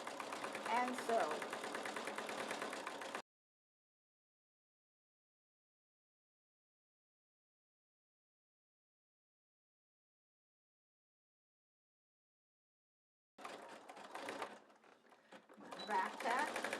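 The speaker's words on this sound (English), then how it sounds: "just push them together and sew" A sewing machine stitching coiled rope for an Easter basket runs in short bursts at start and end with a long silent gap between, its motor whirring and needle rattling close up under occasional talk.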